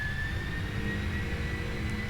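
A four-engine Lufthansa heavy jet at takeoff power in the Prepar3D flight simulator, a steady, even engine roar with a thin high whine running over it, constant and unchanging throughout.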